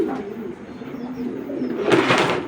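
A female NLX-line racing pigeon coos softly nearby in low murmurs, followed by a brief brighter rustle.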